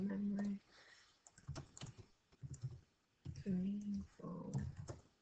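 Quiet clicks of typing on a computer keyboard come in short bursts between stretches of someone speaking close by.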